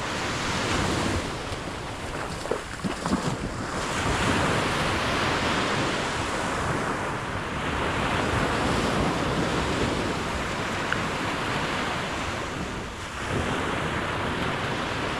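Ocean waves wash onto an open beach at San Juan, La Union, a continuous loud roar of surf mixed with wind buffeting the microphone, with no voices.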